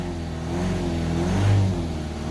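A Ford Transit 2.2 diesel van engine revs up under acceleration, a steady mid-low drone that rises and swells in pitch, peaking briefly before easing slightly, heard close with no talking.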